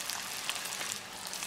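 Sockeye salmon pieces deep frying in hot oil in a small fryer basket, a dense, even crackling sizzle that stays steady and fairly loud throughout.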